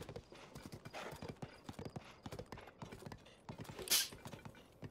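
Horse hooves clip-clop at a steady trot in The Legend of Zelda: Tears of the Kingdom, a close rhythmic series of quiet thuds with a brief sharp sound near the end.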